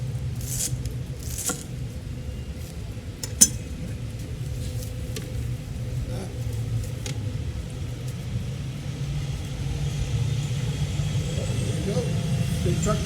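A big Goodwill Industries truck passes by on the road, a steady low engine rumble with a brief sharp knock, building slightly louder toward the end.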